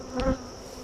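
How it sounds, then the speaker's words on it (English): Loud honey bees buzz at an open hive during an inspection, a short close burst of humming. "For as loud as these bees are"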